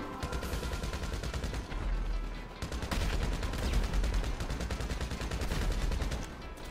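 Dense, loud gunfire from GTA V Online, with rapid automatic bursts and heavy explosive booms packed together in a sustained barrage with almost no pauses.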